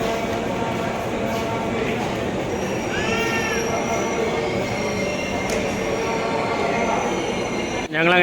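Amrita Express train waiting at Madurai Junction station: busy platform ambience with rumbling rail noise, brief metallic wheel squeals and background crowd chatter throughout, ending in a short thump.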